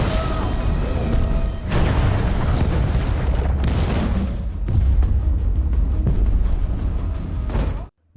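A bomb going off inside a tunnel in an action film, a heavy, sustained roaring boom with rumbling debris that fills the whole stretch and then cuts off abruptly.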